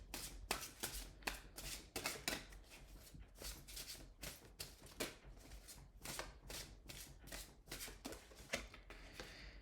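Oracle cards are shuffled close by in a quiet room, producing soft, rapid riffling and slapping bursts that repeat steadily without talk.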